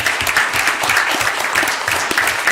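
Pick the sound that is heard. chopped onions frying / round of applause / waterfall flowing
round of applause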